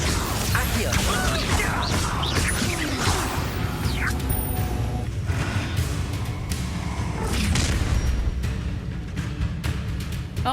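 Hogwarts Legacy spell combat, with crashes, whooshes and heavy booms erupting in bursts over a busy battle mix, while voices call out spells throughout.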